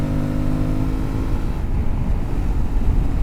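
An Aprilia Tuareg 660 motorcycle cruises on a highway, its engine a steady, loud drone buried in constant rushing wind noise throughout.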